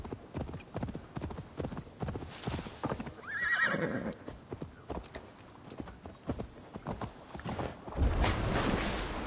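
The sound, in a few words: horse hooves in video game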